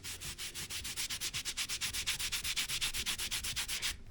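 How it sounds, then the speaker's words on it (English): A dry cloth is scrubbed hard over a coaster to work in a pre-coat, giving a close, brisk back-and-forth rubbing rhythm of about five strokes per second that ends abruptly. "I use the dry part and I really push on and kind of scrub it in"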